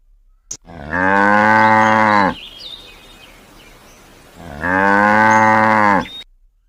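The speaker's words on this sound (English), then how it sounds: "C for cow." Two long, loud, deep cow moos, close by, separated by a short pause with faint background noise.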